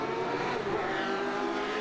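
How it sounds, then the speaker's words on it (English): A car engine roars steadily as a sound effect, loud and continuous, with a racing, revving character. "Play the car sound."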